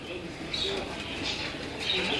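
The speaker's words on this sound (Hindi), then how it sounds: "उनके ये कबूतर दिखा रहे हैं" Pigeons kept by a fancier in Kasur coo softly in the background, faint and brief under a voice talking.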